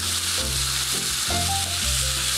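Sour curd hits a hot pan holding fish roe fritters, setting off a loud, continuous sizzle close up with gentle stirring scrapes underneath.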